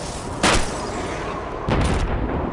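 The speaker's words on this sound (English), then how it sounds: "Step up to the shooting range. Ready, comrades? Shoot those bottles and plates." Two loud gunshots from Call of Duty 2 gameplay at a shooting range with bottle and plate targets, sharp broadband cracks about a second apart over steady background noise.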